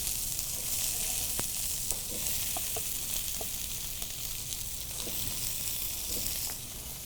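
Sausage, peppers and garlic fry in a pan with a steady bright sizzle, broken by faint scrapes and small stirring knocks throughout.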